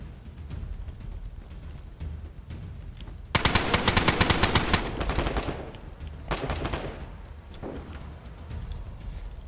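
A rapid burst of automatic gunfire rips out in the PlayStation 4 survival game DayZ, followed by a few scattered single shots and reverberant cracks over a low ambient background.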